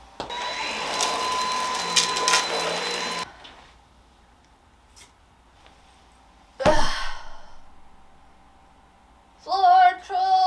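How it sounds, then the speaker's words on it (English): Vacuum cleaner running on a floor, a loud steady whine for about three seconds that then cuts off, followed by quiet and a few short breathy sounds. "which means I also should vacuum my floor"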